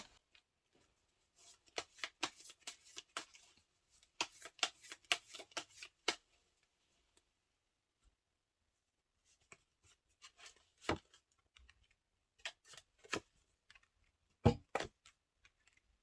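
Tarot cards are shuffled by hand in quick riffling bursts of crisp, papery slaps, loud and close, with pauses between rounds and no voices.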